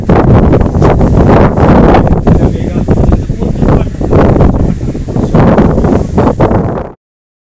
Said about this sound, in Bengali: বৃষ্টি আসার পরেও আমি একটু বাতাসের আওয়াজটা আপনাদেরকে শোনাই